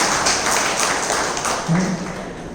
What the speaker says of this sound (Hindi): बजाओ ताली जरा प्यार से